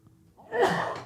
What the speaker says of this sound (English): Sorry for the sneeze scare.